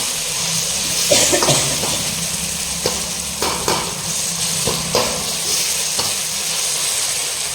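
Tomatoes cook in a pan for a home Sunday non-veg meal, giving a continuous close sizzle and bubbling broken by scrapes and clatters as they are stirred.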